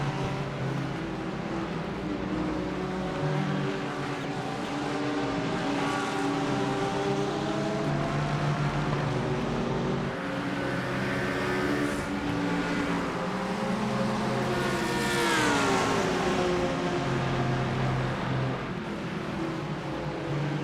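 GT race cars in the video game iRacing, an Audi among them, with engines holding a steady, loud, close drone throughout and pitch rising and falling through gear changes, one rising whine standing out near the end.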